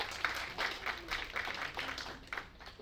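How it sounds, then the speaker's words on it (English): Scattered applause from an audience at a Kwanzaa awards ceremony, a handful of moderately distant claps in uneven bursts, fairly faint throughout. "Yes, let's clap for them."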